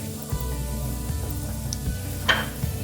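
Whole red chillies sizzling in hot oil with garlic, kalonji and cumin in a pan for a radish sabzi, a steady crackling fry with a few sharp spits and light stirring clinks.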